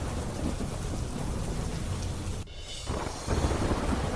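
Dense, heavy rain pours steadily, dropping out briefly for a moment before resuming even stronger with a low rumbling roar underneath.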